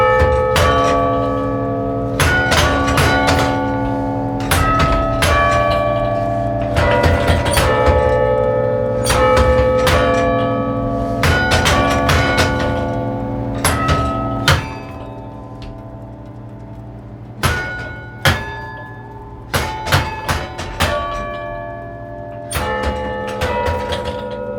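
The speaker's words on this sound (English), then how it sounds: "We call it a carillon because it can play carols." A carillon of 23 church bells in the bell tower of the Basilica of Sacred Heart rings out Amazing Grace, with loud, struck bell tones sounding note by note in a steady melody and long ringing overtones.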